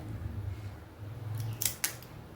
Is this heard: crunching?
yes